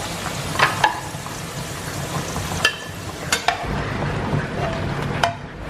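Potato pieces frying in hot oil for a potato capsicum curry, a steady crackling sizzle with occasional sharper pops and clinks of a spoon against the pan, close and continuous.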